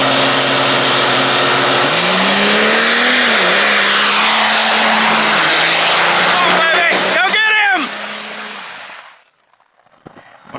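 A diesel truck races down a drag strip at an East vs West Cash Bash event, its engine roaring loud and steady before rising in pitch and fading away into the distance, with an announcer talking over it.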